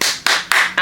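Hands clapping, four sharp, evenly spaced claps in quick succession, close and loud.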